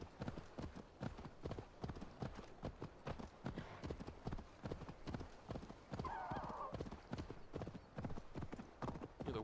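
Continuous galloping hoofbeats of a horse in the video game Assassin's Creed Valhalla, a fast driving rhythm heard up close, with a brief whinny partway through.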